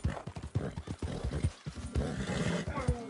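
Rhythmic horse hoof clip-clops in Red Dead Redemption 2, a steady trotting beat up close, with a horse whinny near the end.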